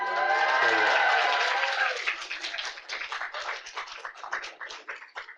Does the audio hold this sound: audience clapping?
yes